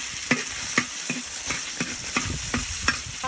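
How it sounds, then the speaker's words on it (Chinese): Tofu stir-frying in hot oil in a big wok, with a constant close sizzle and regular scraping stirs of the spatula roughly every half second. "油热下入豆腐"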